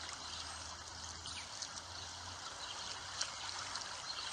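Faint flowing water, a soft continuous hiss and trickle with no clear breaks, heard alone at low level.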